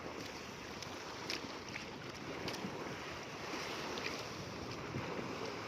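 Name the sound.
waves crashing against the pier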